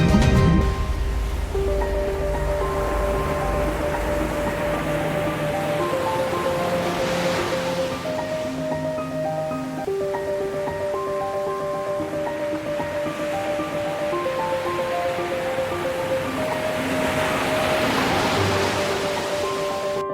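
Atlantic Ocean waves rolling and breaking in a steady, continuous wash of surf, loud and close, with a musical score playing over it throughout.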